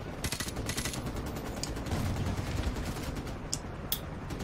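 Rapid machine-gun fire in the Modern Warfare Remastered campaign comes in dense, crackling bursts with a few sharper single shots near the end, loud and close with no talk over it.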